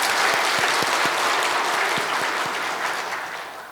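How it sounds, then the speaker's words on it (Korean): A church congregation applauding steadily, dense clapping that fades slightly toward the end, with no talking over it. "우리 박수 한번 보여주세요"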